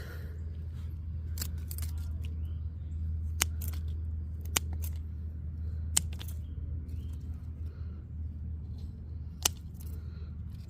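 Scissors trimming in a quiet room: a few sharp, isolated snips spaced seconds apart over a steady low hum.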